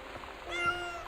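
A human voice imitates a cat meowing in a single short, nasal meow, close and fairly loud over a faint steady background.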